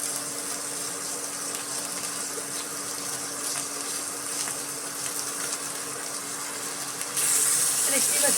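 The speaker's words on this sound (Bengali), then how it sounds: "এখানে আমাদের তেলটি গরম হয়ে গেছে। এবার আমি এর মধ্যে মাছগুলো একটু সতে করে নেব।" Prawns sautéing in hot oil for chilli garlic prawns, a steady, dense sizzle that holds evenly and then brightens into a sharper hiss near the end.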